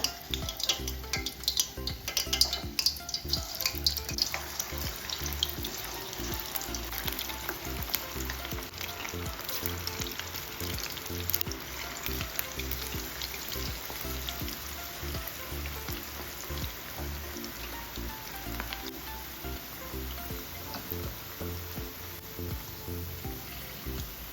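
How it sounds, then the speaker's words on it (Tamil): Cauliflower pieces for crispy cauliflower 65 deep frying in hot oil, a steady bubbling sizzle with crackle that carries on throughout, fairly close and alone without speech. "இப்போ எண்ணெய் நல்லா சூடாயிருச்சு நம்ம ஒன்று ஒன்றா சேர்த்துக்கலாம் காலிஃப்ளவரை"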